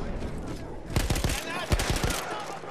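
Rapid gunfire bursts from the Battlefield 1 video game campaign, a cluster of sharp shots in quick succession mixed with game ambience while a player talks over it.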